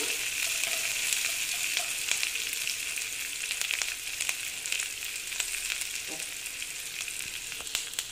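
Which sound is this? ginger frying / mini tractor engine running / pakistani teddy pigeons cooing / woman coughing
ginger frying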